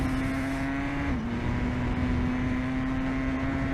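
A Norton superbike engine in the TT Isle of Man racing game holds a steady, droning high-revving note. It stays loud and continuous throughout, with a slight pitch dip partway through and no voices.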